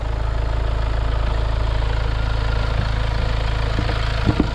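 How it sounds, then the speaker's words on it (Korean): A Kia Sportage The Bold diesel engine idles, a steady low clattering drone with a constant rhythmic throb, close and even throughout, with a few faint clicks near the end. "이 차량이 지금 엔진 토음이 특유의 뭐 경유 차량들만의 토음이잖아요"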